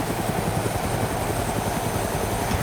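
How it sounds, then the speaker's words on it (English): A helicopter flies in the video game DayZ, its rotor giving a loud, steady, rapid thumping chop over a dense engine whine, with no speech. "But I'm in a chopper, so I might as well not land"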